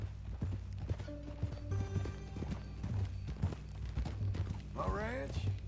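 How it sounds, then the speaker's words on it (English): Horse hooves clip-clop steadily in Red Dead Redemption 2, with a sharp neigh near the end, heard under continuous talking and a low game ambience. "That a new horse?"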